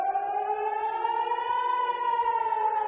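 A Red Alert rocket warning siren in Israel wails in a steady, sustained rising tone, heard from some distance and alone with no talk.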